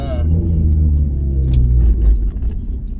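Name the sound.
1988 Honda CRX Si D16A engine accelerating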